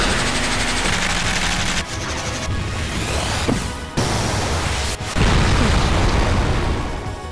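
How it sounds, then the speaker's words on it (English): Game explosions in Final Fantasy VIII, loud and dense: booming bursts and crackling blasts pile up in near-continuous waves with a few sharp cutoffs, and no voices over them. "So many explosions."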